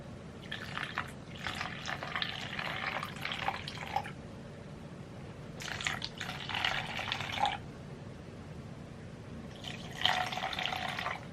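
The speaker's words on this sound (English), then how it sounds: "How do I pour an even amount of water?" Water poured into a cup of glue for acrylic pour painting, arriving in three separate splashing, trickling bursts with quiet pauses between, close by over a low steady background hum.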